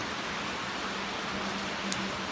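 Heavy rain pours over Chittagong city, making a constant, even hiss that fills the whole stretch with no voices over it.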